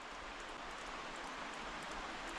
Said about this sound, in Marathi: हे पळयात भायर पावस पडटा